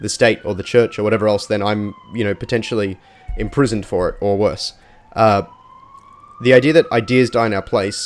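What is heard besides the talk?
siren in the background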